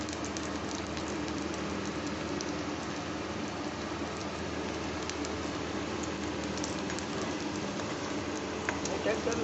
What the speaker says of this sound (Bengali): ঘুরিয়ে ফিরিয়ে গোল্ডেন করে ভেজে নিতে হবে।